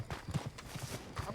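Horse hooves clopping in Red Dead Redemption 2, a quick, quiet run of soft hoof thuds in uneven rhythm, with faint rustling in the background.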